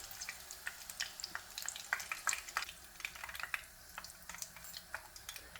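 Sri Lankan fish cutlets (spicy fish croquettes) frying in oil give off a steady close sizzle, with scattered crackles and pops running throughout. The clip holds no talk.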